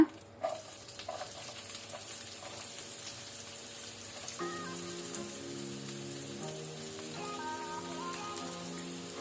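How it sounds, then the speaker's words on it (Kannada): Finely chopped onions frying in oil in a pan for an egg mushroom curry, a soft, steady sizzle that runs throughout, with faint clinks near the start and a melodic tone playing over it later. "ಈರುಳ್ಳಿ ಕಲರ್ ಚೇಂಜ್ ಆಗೋ ತನಕ ಫ್ರೈ ಮಾಡ್ಕೊಳ್ಳುವ"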